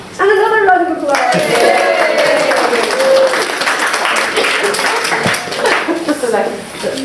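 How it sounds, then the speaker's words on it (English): Wedding guests applaud during the ceremony, a steady dense wash of clapping sustained for several seconds, fairly loud and close, with voices mixed in. "And another round of applause."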